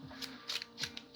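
Tarot deck being shuffled overhand, giving soft papery bursts of card riffles in an uneven rhythm, close and quiet, with no talking.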